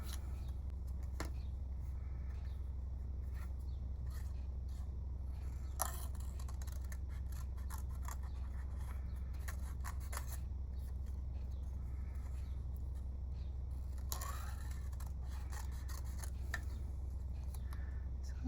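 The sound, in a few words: scissors cutting out paper lilies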